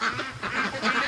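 A big goose honks repeatedly in a barn with free-range ducklings, loud, close and continuous, with noisy fowl calls overlapping through the short stretch.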